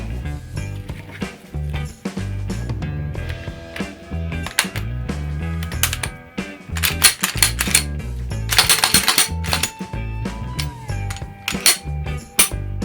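Glock Gen 5 pistol being reassembled, barrel and guide rod spring set into the slide, giving close, crisp metallic clicks and clinks in irregular bursts, with a faint tone near the end.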